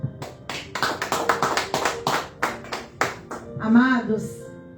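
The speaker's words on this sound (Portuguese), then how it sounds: "Aplauda o Senhor." A church congregation applauds during a Sunday service, a run of sharp rhythmic claps that builds across the clip, with voices rising near the end.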